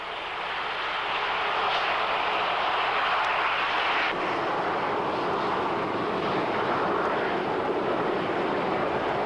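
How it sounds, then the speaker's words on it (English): A fast, sleek airliner flies near an airport outside Los Angeles, giving a loud, steady, broad roar that fills the whole stretch without a break and with no voices. "Today, airplanes are fast and sleek."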